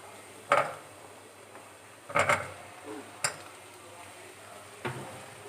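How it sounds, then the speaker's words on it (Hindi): Potatoes tipped into a pan of softened onions for a capsicum-and-potato (shimla mirch aloo) dish, giving a few sharp clattering thumps and scrapes spaced a second or two apart over a faint, steady sizzle. "अब हम इसके अंदर डालेंगे आलू डालेंगे"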